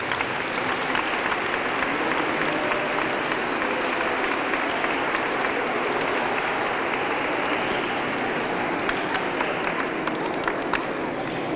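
Sustained, dense applause fills a hall at a school Christmas carol festival, a steady wash of many hands clapping throughout, loud and unbroken for over ten seconds.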